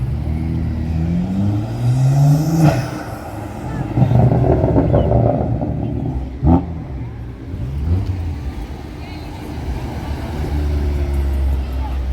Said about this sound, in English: this Golf R is insanely loud actually